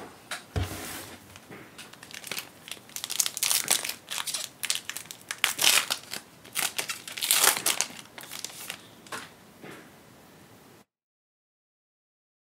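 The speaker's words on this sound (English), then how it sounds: "So let's open five more packs and see what we get." Foil packs of 2019 Prizm Draft Picks football trading cards crinkle and tear open in bursts of close, crackling rustles, with card handling in between, ending in silence.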